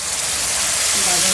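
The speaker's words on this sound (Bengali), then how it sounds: "একটু ভেজে নিব।" Hilsa fish fries with salt in a hot pan, giving a short, loud, steady sizzling hiss.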